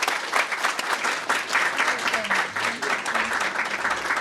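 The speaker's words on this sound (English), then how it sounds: "Please join me for a round of applause" An audience applauding after a fireside chat interview, steady dense clapping from a crowd that fills the room, with a voice speaking faintly beneath it toward the end.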